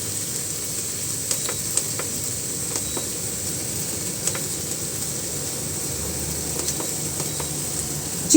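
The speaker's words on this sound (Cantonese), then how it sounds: "煎至金黃，反轉面再煎" Chicken wings pan-frying skin-side down, a steady low sizzle and faint crackle running throughout with occasional small pops, quiet and even with no voices.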